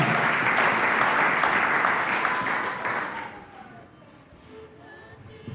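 A church congregation applauds together, a dense wash of clapping that holds strongly for about three seconds, then thins and fades away to scattered claps and a quiet room.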